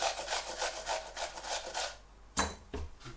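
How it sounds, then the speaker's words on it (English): Cucumber is rubbed against a big grater in quick, even rasping strokes, about a dozen in a row, followed by a couple of louder knocks near the end. "Grate it. Very simple grating it. Use a big grater."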